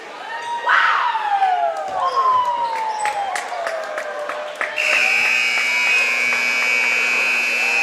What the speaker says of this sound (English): So the buzzer sounds here at Drury High School